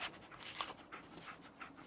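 Dogmeat, the dog companion in Fallout 4, panting in quick, soft, rhythmic breaths close by, with no talking over it.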